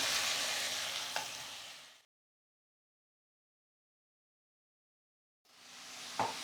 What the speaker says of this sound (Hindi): बहुत अच्छी तरह मटन को फ्राई करेंगे हम।